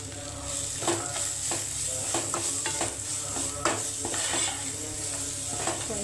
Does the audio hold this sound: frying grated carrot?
yes